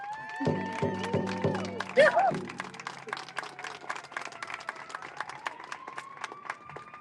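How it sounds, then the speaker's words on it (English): Audience clapping after a speech at a gathering, a continuous patter of many hands carrying through the clip, with a voice speaking over it early on and a sustained tone running beneath. "Let's give Isa another big round of applause"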